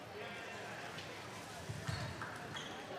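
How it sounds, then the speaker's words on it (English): In a school gym during a high school basketball game, a ball bounces a few times up onto a stage, faint under a commentator's talk and crowd murmur. "The ball bounces up onto the stage."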